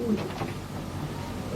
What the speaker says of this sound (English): she's a wonderful pigeon, this